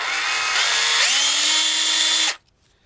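A 2005 Makita DA312D cordless right-angle drill runs loudly at steady speed with a high motor whine that rises slightly in pitch about halfway through, then cuts off abruptly into quiet.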